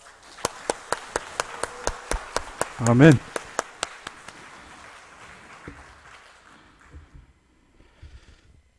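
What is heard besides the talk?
congregation applauding in church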